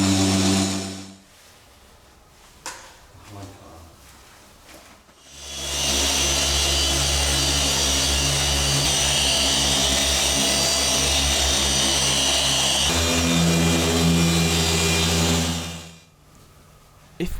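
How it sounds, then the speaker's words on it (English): A machine polisher buffs the paint on the bonnet of a BMW Z4 3.0si Sport Coupe, a steady loud whirring drone lasting about ten seconds after a quieter start and cutting off near the end. "it was time to give the rest of the bonnet a light machine polish"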